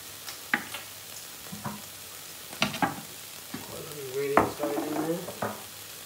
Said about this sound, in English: while I'm waiting for the onions to cook